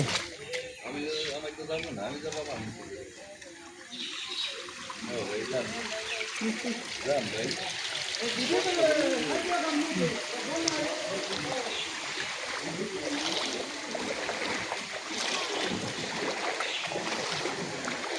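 Someone wades through ankle-deep floodwater in a rain-flooded neighbourhood, with continuous close sloshing and trickling water and people talking over it throughout.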